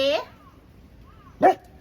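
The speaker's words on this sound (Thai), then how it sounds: "มีสุนัขมาหน้าบ้านเขาก็เลยเห่า" Beagle barking at another dog outside the house, two sharp, close, high-pitched barks, one at the start and one near the end, with quiet between.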